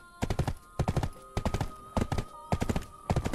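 Horse hooves clip-clop at a steady walking pace in the online game Black Desert, with a loud, close rhythmic series of hoof beats and occasional short whinny-like tones.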